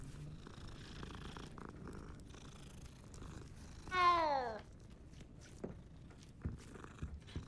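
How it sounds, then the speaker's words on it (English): A cat in the Hogwarts Legacy video game purrs with a soft, steady rumble beneath quiet game ambience, broken midway by one clear, rising meow; faint footstep-like taps follow. "Aren't you a pretty kitty kitty?"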